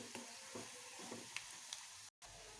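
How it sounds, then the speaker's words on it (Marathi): Garlic, onion, turmeric, red chilli and garam masala fry in a pan for a ridge gourd dish, giving a faint, steady sizzle with a few soft stirring clicks and a brief dropout near the end. "हे छान फ्राय करून घ्यायचं"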